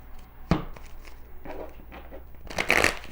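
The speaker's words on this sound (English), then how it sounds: "Just shuffle 3 times." Tarot cards being shuffled by hand in a few short papery bursts, close and fairly soft, with the last flurry the loudest.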